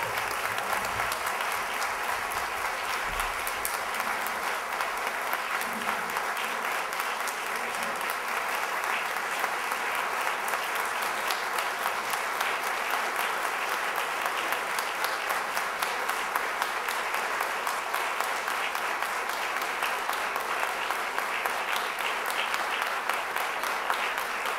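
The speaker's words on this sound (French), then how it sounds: "je vous invite à applaudir la mairesse et les conseillers et conseillères de Longueuil" Sustained, dense applause from an audience at the swearing-in ceremony of the mayor and councillors of Longueuil, a steady roar of clapping that holds at full strength throughout without pause.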